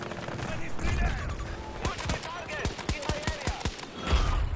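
Gunfire in Battlefield 2042, a rapid burst of sharp shots fired in quick succession, fairly close, over steady game ambience with a player talking.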